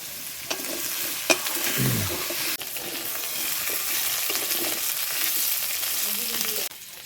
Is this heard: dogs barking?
no